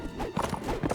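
Horse hooves clip-clop in rapid galloping rhythm in the video game Mount and Blade Warband, steady and fairly close over faint battle background.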